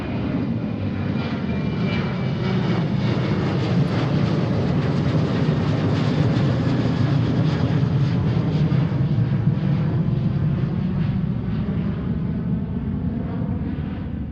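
Jet airliner taking off from runway 34 right at Seattle, a loud, sustained engine roar that holds steady and broad throughout, heard fairly close with no voices over it.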